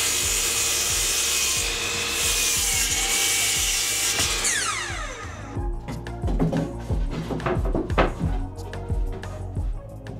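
A wooden support piece trimmed to length with a hand saw in a workshop, rapid rasping strokes for several seconds, then slower uneven cuts with scraping and knocks, close and loud, no speech.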